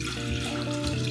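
Water runs from a tap into a pot as the base for Indian chai, a steady, close hiss of pouring liquid with no pauses.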